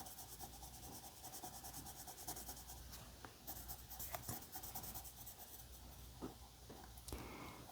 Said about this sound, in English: And I'm turning my pencil, being careful not to press down too hard.